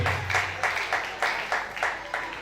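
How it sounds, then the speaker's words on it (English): Audience applause at a concert, heard as a series of rhythmic bursts of clapping at moderate distance, fairly soft and steady throughout. "On l'applaudit s'il vous plaît."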